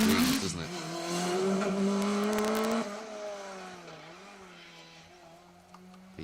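Peugeot 106 rally car on an asphalt stage at the Manx Rally, its engine screaming at high revs as it passes, loud at first then fading into the distance, with a commentator's voice faintly underneath.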